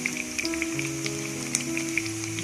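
Chicken kebabs fry in a pan with a steady, soft sizzle and scattered crackling pops, fairly close and alone, with faint music-like tones underneath.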